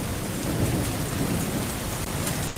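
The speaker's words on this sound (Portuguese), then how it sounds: "Tem barulho de chuva, vou parar." Steady rain pours down in a continuous broadband wash, with low rumbling thunder woven through it, loud and close throughout with no voices.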